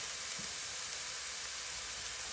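Salted lardons sizzling in a pan, a steady faint hiss of frying fat that runs without a break and with no voices over it.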